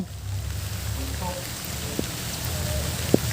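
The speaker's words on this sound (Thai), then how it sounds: "ฝนตก" Soft, steady rain hisses faintly throughout, with a couple of small, sharp drips tapping nearby.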